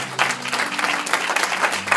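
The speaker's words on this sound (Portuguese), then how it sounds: "Dê um aplauso a Ele nesta manhã." A church congregation applauds during a Sunday morning worship service, a steady wash of clapping from many hands with a faint tonal hum underneath.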